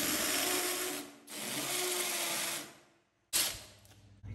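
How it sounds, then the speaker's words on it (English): A power drill bores into crumbly AAC brick to fit a heavy wall-hung sink in two long, steady whirring bursts, stopping briefly in between, then restarts sharply for a third burst, close and fairly loud with no talking. "You can see as I'm drilling there, the brick's just falling apart."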